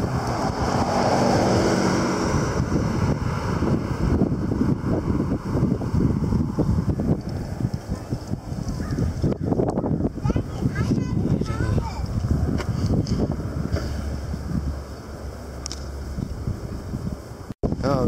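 Strong storm wind roars loudly and steadily into the microphone, buffeting it in heavy gusts, while a person exclaims over it.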